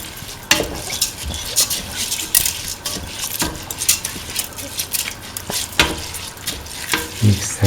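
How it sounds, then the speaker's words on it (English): A tomato coconut rice mixture is stirred in a frying pot, giving repeated scraping and sizzling strokes with soft clinks from the utensil, close and fairly loud throughout. "Mix the rice thoroughly with the rest of the mixture."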